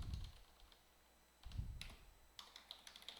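Short bursts of keystrokes on a computer keyboard, close and fairly quiet, with a quick run of taps near the end and brief pauses between.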